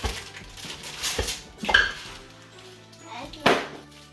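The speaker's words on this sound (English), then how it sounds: "Just whop it on the counter." Almond bark is whacked against a kitchen counter to break it up. Several sharp knocks and clinks stand out, with a child and an adult talking around them and a dog whimpering.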